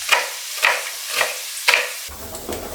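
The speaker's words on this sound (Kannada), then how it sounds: "ಸೊ ಬೀನಿಸ್ ಫ್ರೈ ಮಾಡ್ಕೊಳ್ತಾ ಇದ್ದೀನಿ" Green beans frying in a hot pan, a close, loud hiss of sizzling broken into four regular bursts as the beans are tossed or stirred, then settling to a lower steady crackle.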